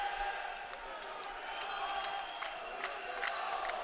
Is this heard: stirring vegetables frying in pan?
no